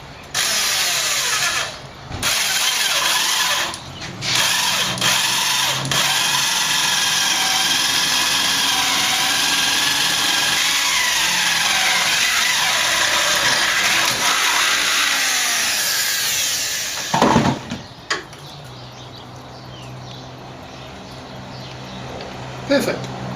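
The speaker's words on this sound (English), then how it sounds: "we're just going to drill about 15-20 mils into the wood" A power drill bores into wood with a loud, steady whining roar lasting about fifteen seconds, broken by short starts and stops at the beginning, then cuts off with clatter and quieter room noise.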